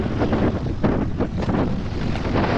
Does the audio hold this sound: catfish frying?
no